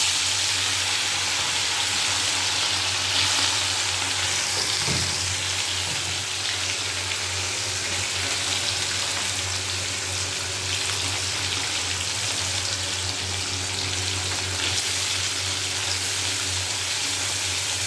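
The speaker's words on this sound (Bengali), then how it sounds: "তেল গরম হয়ে গেছে, এবার মাছগুলোকে দিই। এক এক করে সব মাছগুলো দিয়ে দেবো।" Fish frying in hot oil in a wok, giving a steady, fairly loud sizzle that runs through the whole stretch with no talking.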